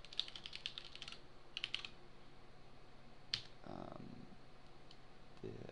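A password is typed on a computer keyboard in short bursts of crisp, close key clicks separated by brief pauses, ending with a few scattered single taps.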